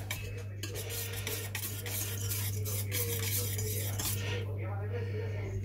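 Onion and garlic stirred in a frying pan while making an Andalusian cod omelette: a steady, close scraping and clinking of the utensil against the pan over a constant low hum, with no talking.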